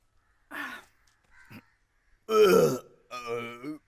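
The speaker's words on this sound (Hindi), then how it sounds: "मेरे डकार की आवाज थी।" A man lets out a loud, long, throaty burp after a meal, preceded by a few short guttural grunts and followed by another drawn-out belch.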